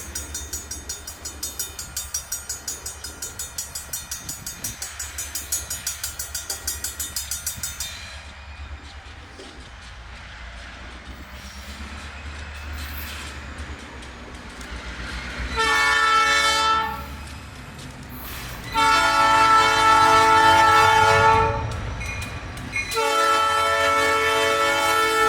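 A northbound Hartwell Railroad freight train passes nearby in Georgia with a continuous rumble and rhythmic clatter, while its horn blasts loudly several times in long, harmonic bursts.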